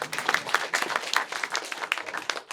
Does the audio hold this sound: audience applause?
yes